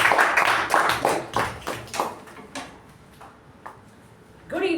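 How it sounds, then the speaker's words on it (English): Applause at a Toastmasters meeting welcoming the Toastmaster: a few sharp, close handclaps in a small, uneven patter that thins out and fades within a few seconds, ending in a brief voice. "Let's welcome Toastmaster Apoorva with a huge round of applause"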